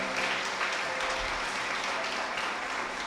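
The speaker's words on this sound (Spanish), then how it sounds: "Dele un aplauso al Señor." A church service congregation applauds in steady, continuous clapping, even and somewhat distant, with no pauses over three seconds.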